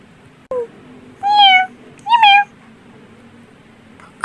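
Cats in the Minecraft video game meow: a short chirp first, then two clear, close, drawn-out meows with a pause between them, over a quiet background.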